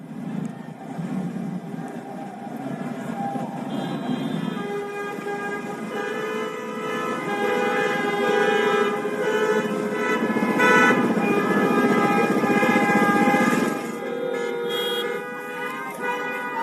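Car horns honk repeatedly at an anti-lockdown drive-by protest around Los Angeles city hall, overlapping toots and longer blasts from many vehicles layered over continuous street and traffic noise.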